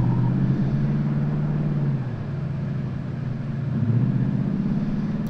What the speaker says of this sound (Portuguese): a gente escuta o carro daqui?